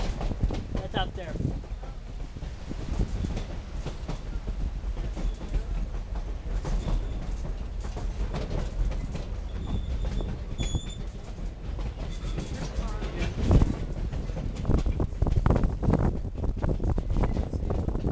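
A narrow gauge train rolls past on its rails with a continuous, fairly loud rumble and clatter that swells slightly toward the end, with people talking faintly nearby.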